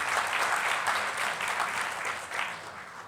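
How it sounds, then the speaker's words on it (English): A seated audience at a conference talk gives warm, continuous applause, a dense wash of many hands clapping at an even level throughout, slightly distant, with no speech over it. "Let's give a big applause to Norway on this one."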